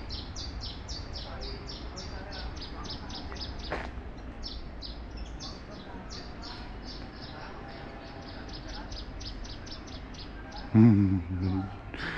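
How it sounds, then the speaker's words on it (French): Small birds in Tenerife chirp and tweet in quick repeated high bursts throughout, moderately near over a steady outdoor hum, with a brief louder rustle near the end. "Il y a des oiseaux."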